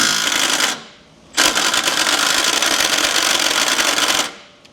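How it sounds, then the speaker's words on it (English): Impact wrench on a chassis mount bolt of a 700 hp LBZ Duramax during a frame-off restoration, two loud rattling bursts, one short and one about three seconds long, separated by a brief pause. "Grab the impact over here. Got 3 bolts that mount it to the chassis. Loud, clicky noises."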